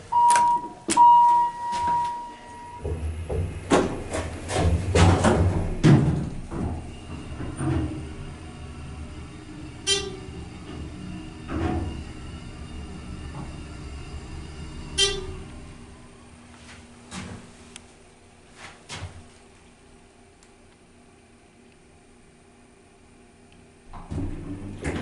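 Dover Impulse hydraulic lobby elevator in a hotel, with door clunks and a low motor rumble early on, then quieter travel hum broken by occasional soft chimes and bumps.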